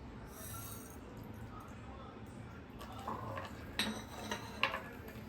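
Spoon whisking milk, yeast and sugar together in a bowl for wheat-flour atta donut dough, making light clinks and scrapes that grow more frequent and distinct toward the end over a steady background hiss.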